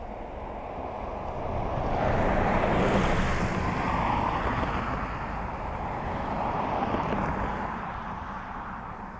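Strong wind at Dublin Airport buffets the microphone in a continuous, rushing roar that swells and eases gently, with no other clear sounds.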